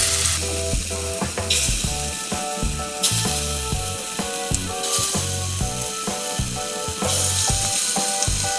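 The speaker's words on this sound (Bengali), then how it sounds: "এবার আমি বড়াটা ভাজছি।" Lentil fritters (bora) frying in oil give a loud, continuous sizzle with bursts of bubbling, accompanied by recurring rhythmic clattering and scraping from stirring in the pan, close and with no talk.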